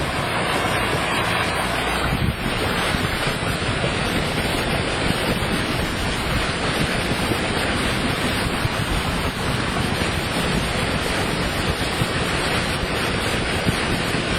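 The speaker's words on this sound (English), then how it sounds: "Pretty windy and wavy out here." Wind and waves buffet a boat crossing Alaskan waters near Misty Fjords, with steady loud wind roar on the microphone and constant surf wash, close and unbroken for the whole stretch.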